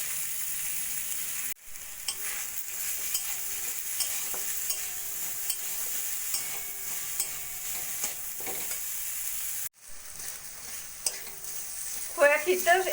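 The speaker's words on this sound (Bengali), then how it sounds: "ক্ষীরটাকে একটু ভাজা ভাজা করে নেব" Khoya kheer fries in ghee in a wok with a steady, soft sizzle close by. Brief stirring scrapes and clinks come and go, with a short break partway through.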